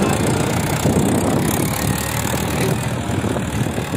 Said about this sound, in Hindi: ये भाई फार्म ट्रक 45 है